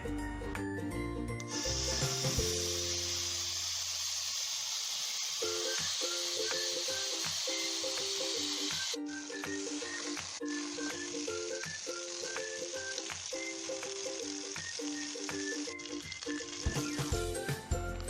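Chicken satay, Madura style, sizzling on a grill, a steady hiss running throughout beneath continuous background music.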